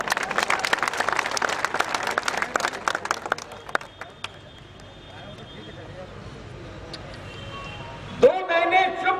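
A crowd at a political rally applauds with dense, loud clapping that thins out and fades away, followed by a short quiet stretch before a voice comes in over a loudspeaker.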